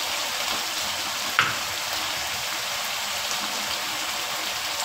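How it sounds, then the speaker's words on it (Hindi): Minced mutton and potatoes fry in a pan with a steady, close, even sizzle that continues throughout, broken by one brief sharper crackle. "आलू कीमे में अच्छे से भून चुके हैं।"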